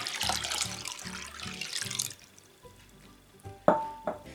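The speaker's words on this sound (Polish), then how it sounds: "Zalewamy zimną wodą." Cold tap water running and pouring over rinsed split peas in a bowl, a steady splashing flow for about two seconds, then quieter trickles and a few sharp drips and clinks near the end.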